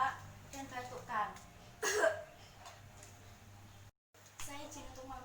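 A patient coughs forcefully during an effective-cough exercise in a clinical skills exam, a sharp loud burst standing out amid nearby voices and other faint coughs and throat noises.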